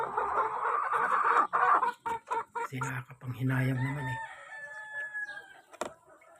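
Roosters kept in a farm coop cluck and then crow, a near, loud cock-a-doodle call with long rising and falling notes, while someone talks briefly in Filipino at the start.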